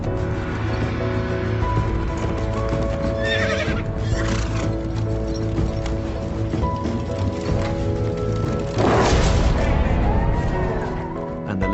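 Horses neigh loudly and repeatedly at a Tudor joust, whinnies rising over a dense pounding of hooves and crashing, with a heavy impact near the end and the whole scene loud and close throughout.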